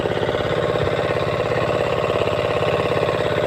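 A single engine on a small fishing boat chugs at a steady idle-like rhythm, a continuous close, loud mechanical drone with even pulsing throughout and no other sounds.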